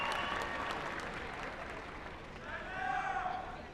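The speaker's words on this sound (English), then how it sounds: "That usually gets applause" Sustained audience applause at a 2013 high school graduation ceremony, a dense wash of many hands clapping in a large hall, steady and fairly loud, swelling slightly toward the end.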